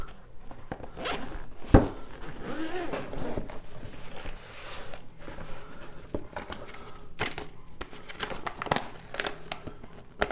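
A zipper is pulled open around a canvas case holding a wire rope crimping kit, with quick ripping zip strokes alongside crinkling and rustling as the case is handled.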